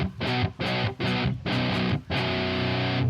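Heavy guitar through a Doomagorgon fuzz pedal with HM2-style distortion chugs in thick, saturated bursts, several short blasts then a longer sustained roar, loud and alone.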